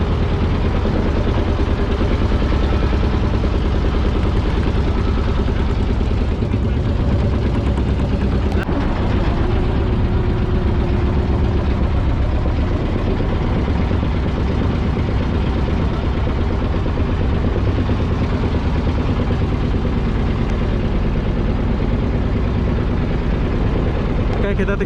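A passenger boat's engine runs as it leaves the port at Pantai Ketapang for Selat Panjang: a loud, steady, low droning hum that holds unbroken for the full length.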